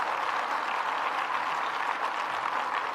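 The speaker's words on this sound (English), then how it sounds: "Let's give another round of applause to Senator Cooney" Audience applause for Senator Cooney at a Rochester event with Governor Hochul: a steady, dense wash of clapping that holds evenly for the whole stretch, with no voices over it.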